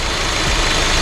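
A 2003 Honda CR-V with a K-Series engine idles steadily at close range, a smooth, even, low hum with no talking.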